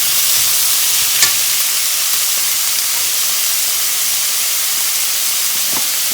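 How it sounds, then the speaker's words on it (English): Tomatoes and green peas sauté in a pan for vermicelli upma, a constant, even hiss of frying with a couple of faint utensil taps. "time to add tomatoes and green peas. Let's saute this"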